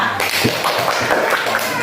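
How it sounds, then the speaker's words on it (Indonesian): A classroom of students applauds a classmate, a dense, steady patter of many hands clapping together close by, holding an even level for about two seconds. "Tepuk tangan dulu untuk Alsita"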